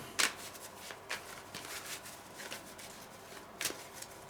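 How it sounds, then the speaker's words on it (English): A deck of board game treasure cards riffles and slaps in a few quick shuffling bursts, close and fairly quiet, with soft handling noises in between and no talking. "Give it a good shuffle."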